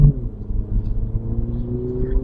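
A petrol car engine pulls at half throttle, a loud steady low drone with rising harmonic tones as revs climb, heard from inside the cabin.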